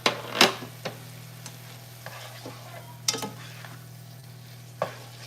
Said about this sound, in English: Mix it really well.